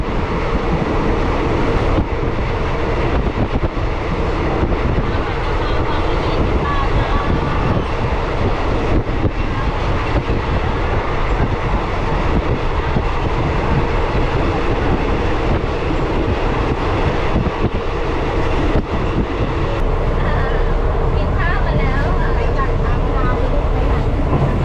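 A fast passenger train from Phitsanulok to Hua Hin, Thailand rumbles along continuously, loud and close, with steady rattling and wind noise throughout.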